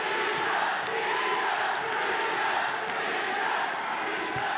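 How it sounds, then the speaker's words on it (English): Arena crowd at a ONE Championship fight chanting a fighter's name, a loud, sustained roar of many voices filling the venue and staying steady throughout. "What we heard from the crowd there, that was the chant for Kingad."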